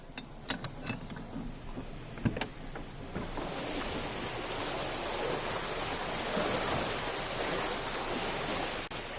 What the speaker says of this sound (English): Looks like I'm going to have to empty the lock out to get it down to my level